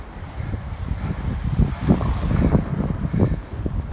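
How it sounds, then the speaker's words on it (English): Strong wind blowing outdoors on a street, a steady low roaring rumble buffeting the microphone in gusts, loud and continuous, with no voices. "look at this wind"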